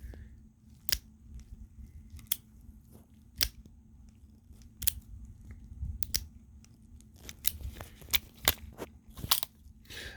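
A stainless S&W Model 60 .357 Magnum revolver is handled close up, its cylinder giving soft, irregular mechanical clicks and ratchets over a quiet background.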